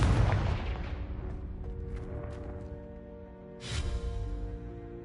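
A Confringo blasting curse from Hogwarts Legacy bursts with a loud booming blast up front, decays into a crackling rumble, then a second softer burst follows with no talk.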